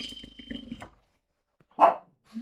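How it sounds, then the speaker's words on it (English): An indoor dog gives one sharp, loud bark close by after a stretch of quieter household sounds, then the room falls silent. "Uh-oh, Loki's gonna bark, sorry."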